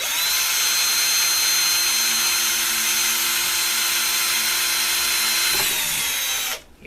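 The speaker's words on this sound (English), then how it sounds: "That's a dull drill bit, needs sharpened. Come onto this side," A power drill with a dull bit whines steadily and loudly for about six seconds while boring a hole, then abruptly spins down and stops.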